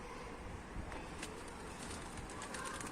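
Mardin pigeons on a rooftop coo and call over a steady outdoor background wash, with a few brief sharper chirps scattered through and no one speaking.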